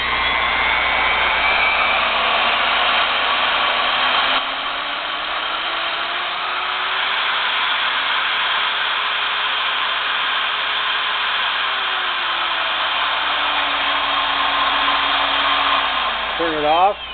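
The motor of a Milwaukee 4204 magnetic base drill press runs in reverse, a loud steady whine whose pitch slowly rises, levels off and dips again before a brief wobble near the end.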